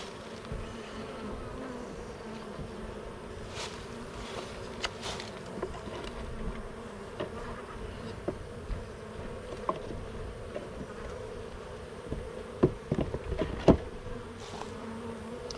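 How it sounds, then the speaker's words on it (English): Honeybees buzzing steadily as they are dumped into a cage holding queens, a dense continuous hum close by with occasional louder passes of individual bees. "you just dump them in and you can see the bees crawling all over"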